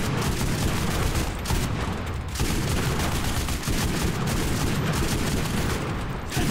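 Heavy 50 cal machine gun fire in a video game, a loud continuous barrage of rapid shots with only brief pauses.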